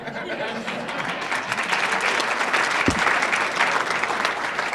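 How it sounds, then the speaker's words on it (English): Banquet audience at a community awards anniversary event claps steadily and fairly loudly for several seconds, a dense crowd applause with a brief thump partway through. "You can clap."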